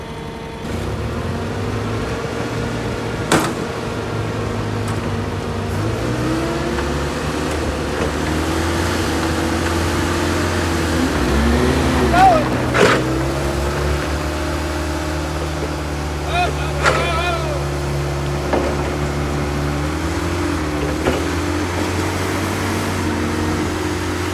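An old Toyota forklift engine runs steadily at a low, even idle throughout, with a few brief clanks and knocks rising over the hum.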